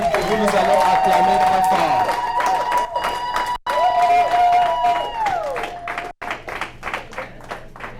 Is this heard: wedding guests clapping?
yes